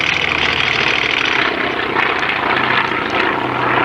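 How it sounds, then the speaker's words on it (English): A T-24 airplane roars past on its final pass at the 1993 Muirkirk Spence airshow, a loud, steady broadband engine drone that holds for the whole few seconds, swelling slightly and never fading away. "that's the last pass of the T-24"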